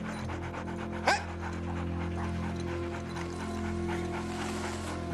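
A dog pants steadily and lets out a short whimper near the start, close and continuous, against a low background hum during a search scene in the snow.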